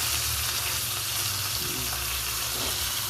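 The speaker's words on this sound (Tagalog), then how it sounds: "habang nagprito tayo ng isda" Small fish frying in a pan of hot oil, with a steady close sizzle and crackle that runs without a break and no talking.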